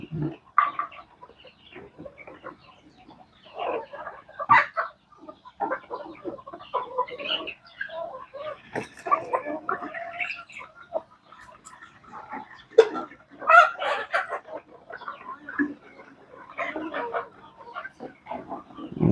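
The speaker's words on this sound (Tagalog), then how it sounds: "Ito po naman guys yung ating mga native chicken." Native chickens cluck in irregular, scattered bursts, close and fairly clear, several birds calling over one another with brief quiet gaps.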